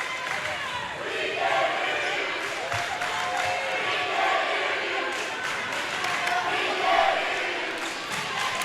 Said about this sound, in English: And now the Ranger crowd with some good-natured taunting towards the New Braunfels fans.